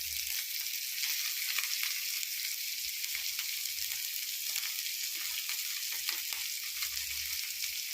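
Dried paravu fish fries in a little oil, a dense, steady crackling sizzle held close and even throughout, with faint low knocks from the pan and no speech.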